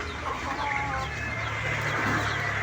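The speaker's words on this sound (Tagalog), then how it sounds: "Daming manok ah." Chickens cluck and chatter in a busy flock, soft overlapping calls over a steady low background hum.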